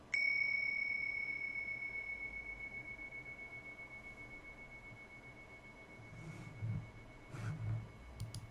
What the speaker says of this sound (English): please use the sound of the bell to mindfully bring this period of formal practice to a close